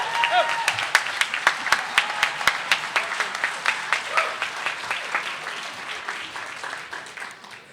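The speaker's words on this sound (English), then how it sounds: "Give him a big round of applause" Audience applause for Irish lilter Seamus Fay taking the stage at Echoes of Erin, County Cavan, sharp individual claps standing out over a steady crowd clapping that fades gradually, with cheering voices in the mix.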